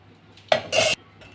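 A short metallic clatter of a utensil against a steel bowl, followed by a brief scraping pour of dal, then quiet.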